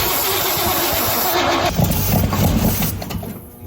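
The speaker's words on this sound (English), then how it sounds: "I think we've got a really bad exhaust." An engine with a badly failing exhaust runs loud and rough, a steady raspy roar that swells and sputters near the end.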